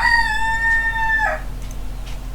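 The tail of a rooster's crow, a clear sustained tonal call that cuts off abruptly, followed by quiet background hum.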